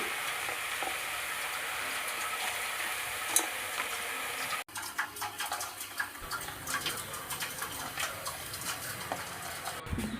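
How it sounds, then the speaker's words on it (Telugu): Boondi gram flour batter sizzling and crackling in hot oil, a dense continuous fry with scattered pops; the sizzle shifts partway through and grows busier, with no voices. "ఆయిల్ పోసేసి వేడైన తర్వాత పిండి అయితే ఇలా బూందీలా తూయాలి"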